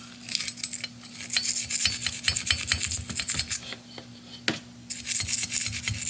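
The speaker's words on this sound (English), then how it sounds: "I got a nice little round wire brush. I don't want to hit the seats so much, but we'll just scrape a little bit of the carbon off this way." A small round wire brush scrubs carbon off the cylinder head of a seized Briggs & Stratton 190cc horizontal-shaft engine, making close, harsh rasping strokes in rapid bursts with a brief pause near the end.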